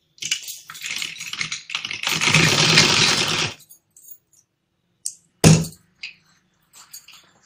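A sewing machine stitches blouse fabric with short stitches, whirring steadily for a few seconds up close, then stopping and giving brief bursts amid quiet handling.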